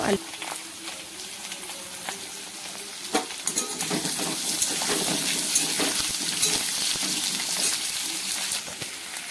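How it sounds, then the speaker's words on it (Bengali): Potatoes dropped into hot oil in a wok with a little salt: a few clattering knocks, then a loud, close sizzle that swells and holds steady to the end. "আলুগুলো দিয়ে এখানে অল্প করে নুন দিয়ে আমি"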